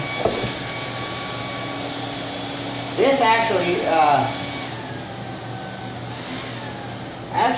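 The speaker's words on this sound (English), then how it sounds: "this hair dryer is not even necessary" A steady, whirring hair dryer runs continuously up close, with a voice speaking briefly over the blowing hum.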